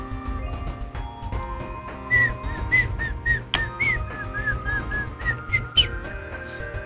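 A short melodic whistle tune of rising and falling notes over a steady music-like background bed, each note brief and clear, from a video game.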